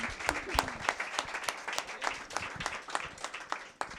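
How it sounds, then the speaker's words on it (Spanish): An audience at a municipalism workshop applauds, a sparse, fairly faint clapping made of distinct individual claps at an uneven rhythm, with some voices mixed in. "Este aplauso es nuevamente para Eli."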